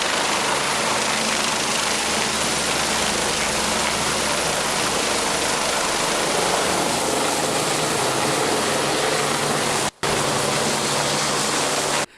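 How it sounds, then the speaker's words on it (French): A rescue helicopter in flight makes a steady, loud broadband rotor and engine roar with a low throb, continuous throughout and cut by a brief dropout near the end, with no talking. "Un sauvetage par hélicoptère,"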